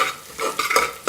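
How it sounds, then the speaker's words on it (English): About a cup of shallots sautéing in a pan, with close stirring scrapes and clatter over a bright sizzle in short irregular bursts, no talking. "I'm going to add in the shallots, about 1 cup of shallots, and saute them"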